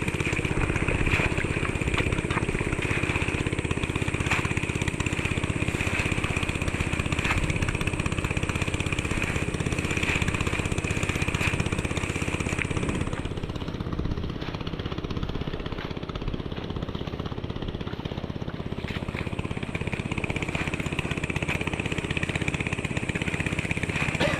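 A motorcycle engine with an overheated radiator runs steadily and close, a constant buzzing rumble that dips briefly partway through before resuming.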